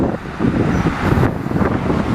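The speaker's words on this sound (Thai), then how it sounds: "ลมไม่แรงค่อนข้างตีเข้าข้างข้าง" Side wind buffeting a microphone on a seaside outing in Thailand, a steady broadband rushing roar with a passing vehicle-like swell in the middle, loud and continuous throughout.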